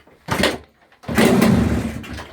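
A small pull-start engine with the choke on is cranked in two close, loud bursts: a short first pull, then a longer second one where the engine briefly catches and sputters before dying away.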